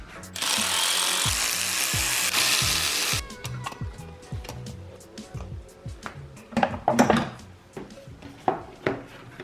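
Ratchet clicks in short bursts as spark plugs are tightened back into a Volvo 240 engine, close and fairly loud, following a few seconds of steady broadband hiss at the start.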